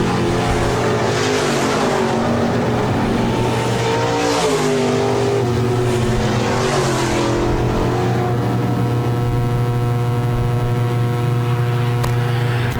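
Stock car racers roar past on the Park Jefferson Speedway during a heat race, engines loud and close, swelling and fading in waves as cars pass, then settling into a sustained droning whine.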